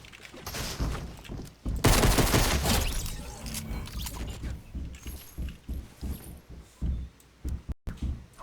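Gunfire from other Fortnite Chapter 2 players inside a building: a loud cluster of rapid, overlapping shots that then breaks into scattered single cracks and short bursts, with no voices over it.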